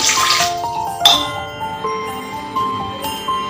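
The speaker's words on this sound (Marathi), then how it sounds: "इथे मी या गिलास आणि गिलासभर पाणी ओतलं" Water pours briefly from a glass into a metal pot, followed by ringing metallic clinks and a lingering resonant hum from the vessel.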